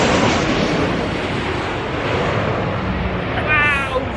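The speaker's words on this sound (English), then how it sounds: "Wow, a plane!" A passenger airplane flies overhead in a Los Angeles street setting, its broad, loud roar filling the whole stretch steadily, with a faint higher whine near the end.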